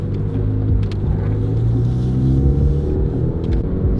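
Ford Focus ST exhaust giving a deep, steady low rumble from inside the moving car, loud and continuous with slight swells, driving slowly without speech.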